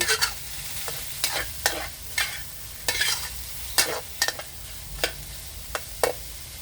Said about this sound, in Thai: ตอนนี้เอากระเจี๊ยบกับพริกสดนี้นะคะ ลงเลยค่ะ กระเจี๊ยบเขียว ผัดให้เข้ากัน